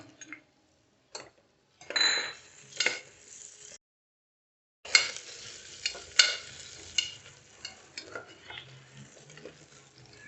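Ginger garlic paste fries in a pan for mutton curry. Spatula scrapes and clinks come in bursts over a light sizzle, with a short silent gap partway through, heard close and at moderate level.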